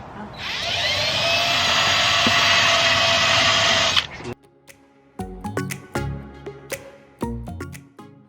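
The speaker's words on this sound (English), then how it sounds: "So I just drill a couple holes in there." A power drill whines steadily for about four seconds while drilling holes in a pool, then stops, leaving scattered knocks and clatter.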